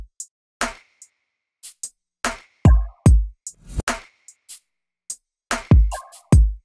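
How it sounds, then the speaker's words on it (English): Drum pattern in a hip-hop style beat, with a deep, bassy kick thumping among short clicky percussion hits, including a reversed perc and a spacey effect hit, in a punchy, sparse rhythm with no voices. "Then finally I had this bassy kick but wasn't too overpowering."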